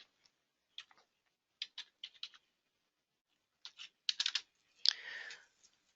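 Computer keyboard keys tapped in short irregular bursts separated by pauses, crisp close clicks ending in a brief cluster of rapid strokes and a softer rustle.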